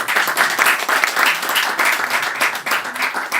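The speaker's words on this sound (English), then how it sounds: "So big applause for them." At a panel discussion, audience members clap enthusiastically, with crisp individual hand claps forming a lively, slightly uneven burst of applause that stays strong throughout.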